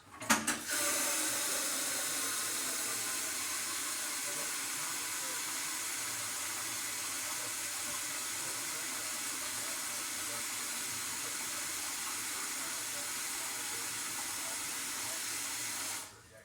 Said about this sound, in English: So let's run some water into this pot.